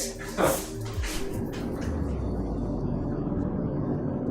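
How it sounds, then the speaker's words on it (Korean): An airplane flies overhead, heard from indoors with the windows shut, as a steady low rumbling drone that holds at an even, fairly faint level after a brief knock at the start. "비행기 날아가는 소리가 들리네"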